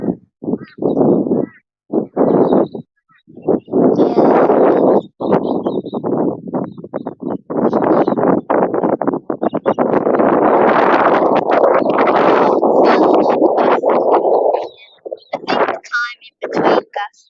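Gusty wind buffets the microphone at an outback airfield in Normanton, Queensland, near a trike, loud rushing bursts rising and dropping irregularly, with one long sustained gust before easing off.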